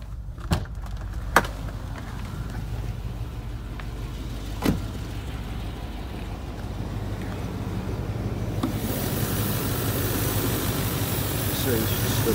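Range Rover 4.6 HSE V8 idling on gas with the bonnet open, a steady low engine hum running throughout, with a few brief knocks early on and a brighter, broader wash toward the end.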